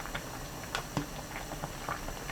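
Egg and saury soup boils in a pot, a faint, close bubbling with soft irregular pops and patter, alone without voices.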